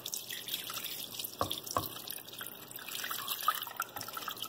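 Warm water poured over beaver meat in a crock pot, a steady trickling splash with a few sharp drips, heard close and fairly quiet with no voices.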